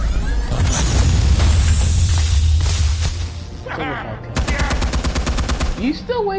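Rapid gunfire from the Batman Telltale Series, with a loud sustained barrage followed by a fast string of sharp shots, near and dominant, with brief talk between bursts.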